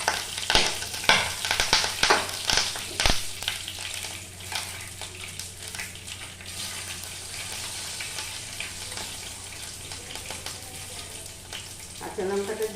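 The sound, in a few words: green chilies frying in a pan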